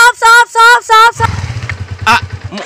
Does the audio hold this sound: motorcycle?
yes